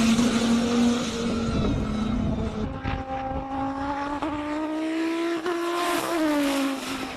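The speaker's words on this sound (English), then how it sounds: "Don't you love how smooth those gear changes are taking place?" A race car on a hill-climb course at a Cape Town speed classic, its engine holding a steady high note that steps smoothly through gear changes, rising again after each shift, loud and close with no talk over it.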